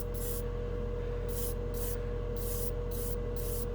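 Airbrush spraying Pro Acryl acrylic hobby paint in short bursts of hiss, about five separate sprays over a constant low compressor hum, close and fairly quiet.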